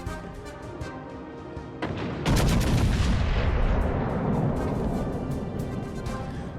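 Battleship main guns fire at a North Carolina in World of Warships Legends: a sharp salvo cracks out, then a heavier booming blast rolls into a long, loud rumbling decay that fills the rest of the clip.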